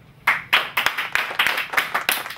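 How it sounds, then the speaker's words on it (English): Audience applause for a new team member being introduced, a burst of close clapping that starts sharply and carries on steadily with uneven hand strikes. "give a very warm shower of applause for our latest signing"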